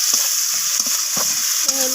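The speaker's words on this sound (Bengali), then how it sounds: "হলুদ গুঁড়োটা দিয়ে আমি পেঁয়াজের সাথে নাড়াচাড়া করে নিলাম।" Turmeric powder stirred into fried onion and tomato in a pan for a fish curry, a spoon scraping in several short strokes over a steady, close sizzle, with no talking.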